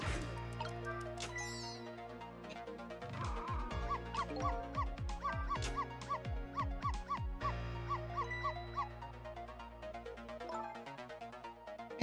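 Ghost Trick: Phantom Detective game audio carries a run of small yipping dog barks in quick rhythmic succession over busy background music, moderately loud throughout; no talking.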